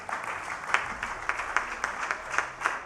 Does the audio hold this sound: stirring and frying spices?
no